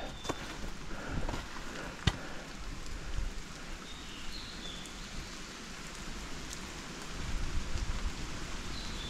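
Rain from a heavy storm patters steadily across a mountain trail at Amagisan, a dense even hiss with a few sharper drips and taps throughout, and no voices over it.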